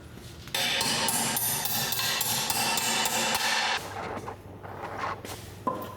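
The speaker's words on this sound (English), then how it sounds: "We don't usually rivet, Leo." A hammer sets a rivet in metalwork inside a vintage car workshop, a rapid run of sharp, ringing metallic blows close up for several seconds, then a few scattered knocks and taps as it slows.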